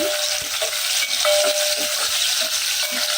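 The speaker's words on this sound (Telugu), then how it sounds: "తాలింపుకి తగినంత ఆయిల్ వేసుకోవాలి ఈ నూనె అండి వెల్లుల్లిపాయ రెబ్బలు వేసేసుకుంటున్నాను" Garlic cloves sizzle loudly in hot oil for a tempering for a moong dal tomato curry, a strong constant hiss with a rhythmic series of spoon scrapes against the pan, close and without talk.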